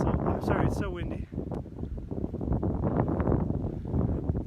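Strong wind buffets the microphone at hilltop castle ruins in Lacoste, France, a loud rumbling gust noise running continuously under a person talking.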